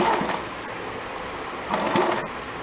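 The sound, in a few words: sewing machine stitching kurti fabric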